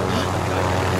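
Helicopter rotor and engine roar in Call of Duty Warzone, a loud, steady, close drone that fills the moment with no talk over it.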